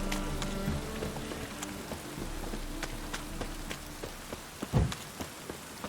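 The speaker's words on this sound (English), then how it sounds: "Raining again." Rain falling in The Witcher 3 video game, a soft continuous patter of drops on surfaces with scattered sharper drips, steady and fairly quiet, with a brief low thump near the end and no voices.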